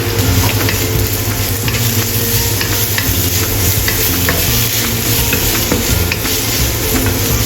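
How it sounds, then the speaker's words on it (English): Ginger, dried chili, chopped garlic and peppercorn stir-fried in a hot pan, a loud, dense, continuous sizzle with quick scraping strokes of a spatula throughout and no talk. "Stir-fry to release fragrance."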